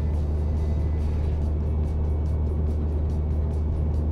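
Cabin of a car driving on a newly fitted exhaust: a steady, deep rumble with road noise that holds constant throughout, with no talking.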